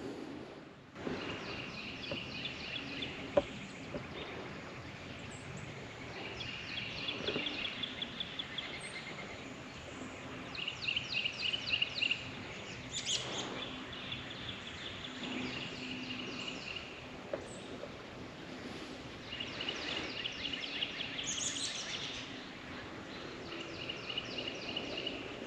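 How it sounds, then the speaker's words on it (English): Outdoor birds sing in repeated bright chirping bursts over a soft, steady background hiss, fairly faint and distant, with no voices. "I love all the birds."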